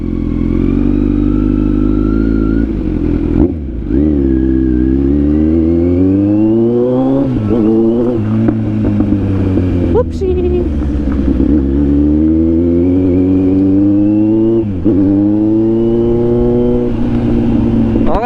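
A Kawasaki Z900 SE motorcycle engine snarls close by, repeatedly revving up in long pulls with brief drops between gear changes, loud throughout, with a brief sharp click near the middle and faint voices underneath.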